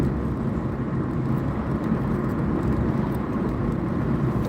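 Road traffic passing by a house, a steady broadband rumble of car tyres and engines, fairly close and continuous with no voices.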